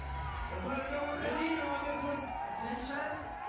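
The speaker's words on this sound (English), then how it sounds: "Listen to that crowd" A home crowd at an ice climbing World Cup speed final in Longmont, USA, roars and cheers steadily in the background while a commentator talks over it throughout.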